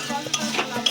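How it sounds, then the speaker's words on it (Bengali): Vegetables being stirred with Maggi masala in a hot pan, a steady close scraping and light sizzling that runs continuously through the short moment. "ম্যাগি মশলাটা দিয়ে ভালো করে মশলার সবজির সঙ্গে মিক্সড করে নেব।"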